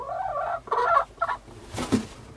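A chicken calling nearby, a few short, rough clucking and squawking bursts with brief gaps between, fairly close against a quiet background.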